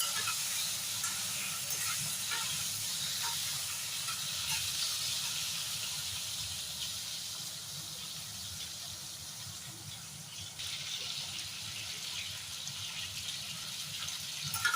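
Eggplant slices shallow-frying in oil in a pan for a Bengali ilish fish dish, a soft continuous hiss with a faint bubbling undertone, steady and fairly quiet, no talking.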